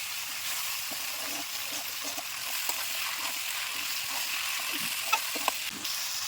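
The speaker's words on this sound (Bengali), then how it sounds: "কাঁঠালটা দিয়ে মশলার সঙ্গে খুব সুন্দর করে আমি কষিয়ে নিচ্ছি" Green jackfruit sautés with spices in a pan, giving a steady, close sizzle with occasional soft clinks and scrapes of stirring, and almost no talking.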